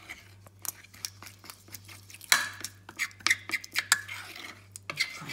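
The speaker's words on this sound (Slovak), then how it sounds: "Ja toto premiešame. Z toho vznikne takáto hustá kašička." A spoon stirs flour and golden kvass into a thick paste in a bowl, making quiet scraping clinks and taps. The strokes are close and irregular, and a low hum runs underneath.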